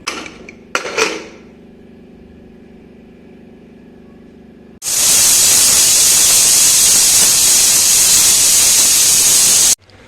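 After some clatter and a quiet low hum, a pressure cooker whistle releases a loud, steady hiss of steam while cooking chickpeas, continuing strongly for about five seconds before cutting off.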